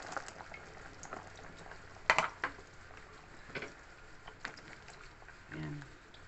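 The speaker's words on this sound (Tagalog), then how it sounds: "kulong-kulo na" Chicken sopas broth bubbles at a rolling boil in a pot, a soft, low-level burble with scattered pops and a few light clinks, while a voice talks faintly in the background.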